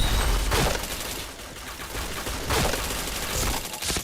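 Sustained rapid gunfire in a shooter video game, loud and close, with rolling bursts of shots that swell and ease across the stretch, with no talk.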